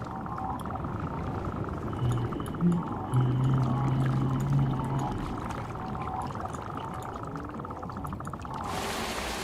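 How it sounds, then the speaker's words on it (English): Rain pattering steadily over water in the Guild Wars 2 game world: a continuous soft hiss with faint splashing, a few low tones, and no speech. "And it started raining just now in this minute. I hope you do like the sound of the rain."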